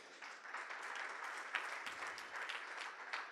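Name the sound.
audience applause for the judges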